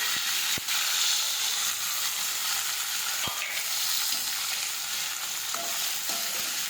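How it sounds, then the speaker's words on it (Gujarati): Chopped fenugreek leaves frying with garlic and asafoetida give a loud, steady, close hiss and sizzle, broken by a couple of sharp clacks from the utensil, with no talking. "મેથીની ભાજી સમારી છે તે નાખી દઈશું."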